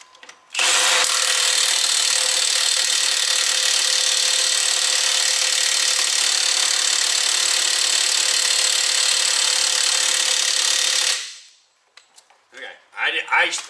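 A 1/2-inch cordless impact wrench, a Milwaukee or DeWalt DCF899H, tightens a nut at full torque in one loud unbroken hammering burst of about ten seconds, then stops and a few faint clatters follow.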